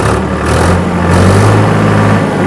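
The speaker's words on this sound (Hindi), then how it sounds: "1000 आरपीएम के लिए मैं पीटीओ लीवर को पीछे की तरफ कर रहा हूं और इंजन के चक्कर 2150 दे रहा हूं" A tractor engine runs steadily at 2150 rpm with the PTO engaged, a loud, continuous low droning hum with a constant engine tone throughout and no voices.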